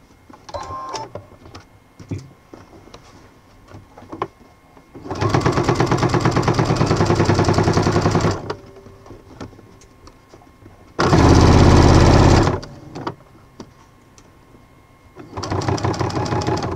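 A sewing machine stitches bias binding onto fabric in three loud sustained whirring bursts of rapid stitching, separated by quieter pauses with small clicks and handling sounds, close up and without talk.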